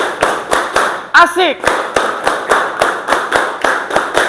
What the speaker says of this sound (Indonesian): Terima kasih tepuk tangan buat semua